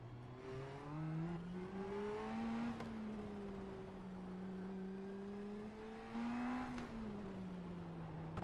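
An IndyCar NXT race car in the iRacing game at Long Beach pulls out of the pit lane into a tight first turn. The engine drones loud and steady, its pitch rising and falling as it accelerates and eases off.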